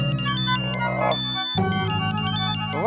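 A phone ringtone plays a bright electronic melody, pauses briefly, then starts again, loud and close with no voices.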